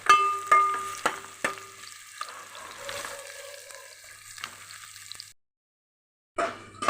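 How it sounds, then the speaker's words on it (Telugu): Onions fry in a pan with a steady, close sizzle, punctuated by sharp clinks and scrapes of stirring, before the sound briefly drops to silence and then returns. "ఉల్లిపాయ చక్క వేగిందమ్మా"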